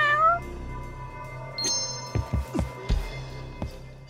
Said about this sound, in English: I believe the cat is outside